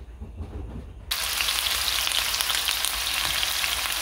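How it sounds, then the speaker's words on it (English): Frozen riced cauliflower stir fry hits hot oil and bursts into a loud, dense, steady sizzle with crackling spatter that starts abruptly after a quieter moment and continues unbroken. "the oil is hot and this is frozen, so the oil gonna like splatter all over the place"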